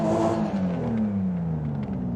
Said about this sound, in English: let's see how the stock engine sounds